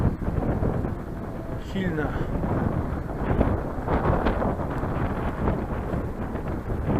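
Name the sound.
wind blowing into microphone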